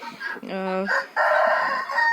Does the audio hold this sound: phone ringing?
no